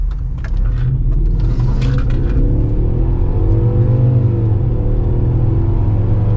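A car engine revs up loudly and steadily, its pitch rising as it accelerates, with rumbling road noise close by.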